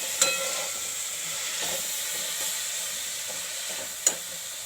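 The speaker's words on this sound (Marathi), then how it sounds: "एक टॅमॅटो आहे चिरलेला, हा घालायचा त्याला परतायचा त्याच्यामध्ये." Chopped tomato sautéing in a pan with lentils nearby, a steady close hiss of frying with a couple of sharp clinks from the spoon at the start and end, no speech.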